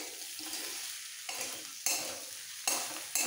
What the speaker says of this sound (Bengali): ভালো করে মিক্সড করে ফেলবো।